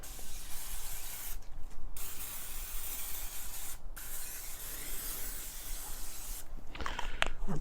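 Cooking spray hisses onto a pan beside an Akorn kamado grill in several steady bursts with short pauses between, loud and close, with no voices.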